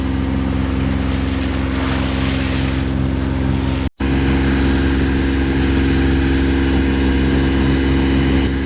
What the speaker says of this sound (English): quite a few boats racing out here